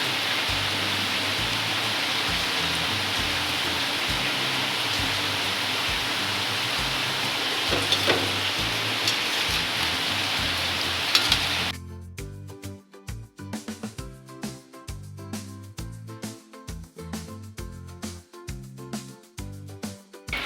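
Banana fritters fry in oil with a loud, even hiss that cuts off abruptly partway through. After it stops, sparse crackles and pops follow.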